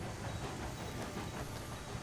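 Train rolling along the rails in the Railroads Online game, a steady low rumble with faint hiss and soft clatter, continuous and even throughout.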